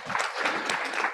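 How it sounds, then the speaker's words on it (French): A crowd claps steadily in dense, close applause that fills the whole moment without any pauses. "on l'applaudit parce que c'est super."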